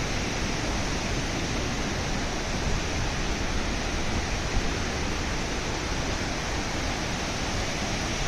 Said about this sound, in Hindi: वो देखिए बहता हुआ झरना।